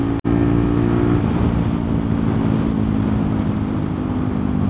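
A motorcycle engine, either a Bajaj Pulsar NS400z or a Yamaha R15 V4, holds a loud, steady high-rev drone throughout a drag race after a sharp brief cut at the start, with no talk.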